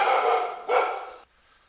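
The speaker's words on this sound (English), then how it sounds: "Sorry about the barking dog there." A dog gives two quick, loud barks close by, the second right after the first, then falls silent.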